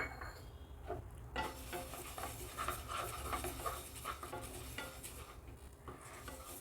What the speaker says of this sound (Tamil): அடுத்து இந்த சிறுபருப்பையும் லைட்டாக வறுத்துக்கலாம்